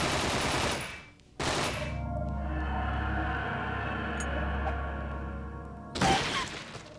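A grenade explosion in The 3rd Birthday video game: a loud, dense blast burst with a crackling debris tail, a second burst, then a sustained rumbling roar before a final loud burst.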